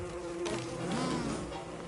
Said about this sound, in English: Oh no, bees.